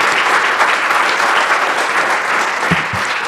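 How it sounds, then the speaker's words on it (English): An audience at a panel event on sports and activism applauds warmly, a steady wash of clapping throughout, with a couple of low thumps near the end. "Give him a round of applause."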